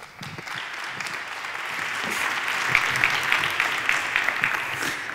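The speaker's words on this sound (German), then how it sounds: "Dieser Applaus war für Sie." Lecture-hall audience at a teacher-training talk claps steadily for several seconds, a dense close wash of applause that swells slightly toward the end, with no voices over it.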